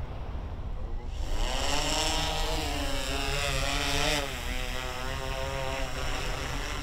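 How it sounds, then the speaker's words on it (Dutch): A fire brigade drone flying over a model aircraft club field, rising into a loud buzzing propeller whine with wavering pitch that holds steady and close, without speech. "Op het terrein van de Modelvliegclub in Rozenburg kan de brandweer goed oefenen met de drone."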